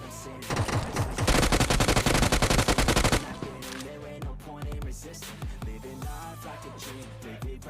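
Rapid automatic gunfire in the BGMI mobile battle game, a loud dense burst of shots for a few seconds followed by scattered single shots and clatter.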